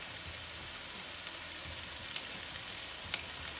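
Frozen chopped onion and garlic sizzle in a hot pan, a steady close frying hiss with occasional faint pops and clicks.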